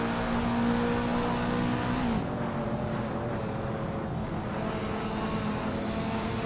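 A Group N 1983 Toyota AE86 race car in a racing game drones with a steady, loud engine note that drops in pitch as it shifts, joined by the mixed roar of other cars on track.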